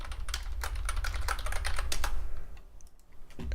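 Rapid keystrokes on a computer keyboard while working in Fusion 360, a close, dense run of clicky taps that stops abruptly, followed by one last isolated press.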